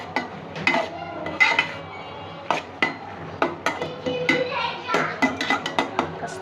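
A spoon stirs fried ridge gourd with prawns, green chillies and chopped coriander in a pan, giving a steady run of clinks and scrapes against the metal, close and fairly loud.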